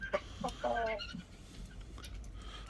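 A young white Indian rooster gives a few short, close clucks in quick succession, then goes quiet against soft background noise.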